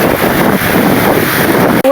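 Wind buffets a handheld microphone outdoors near a fountain of lion statues spouting water, a loud continuous rumbling roar that fills the whole moment before cutting off abruptly near the end.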